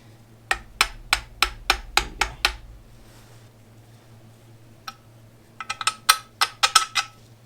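Hammer tapping a lower control arm into place on a Mazda MX-5 race car: a quick run of about eight evenly spaced sharp metallic taps, a pause, then a faster irregular cluster of close, ringing strikes.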